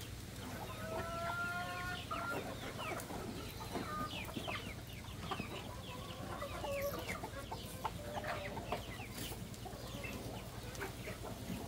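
Farmyard chickens cluck repeatedly and irregularly, fairly close, over a low steady background hum, with a few higher calls and no talking.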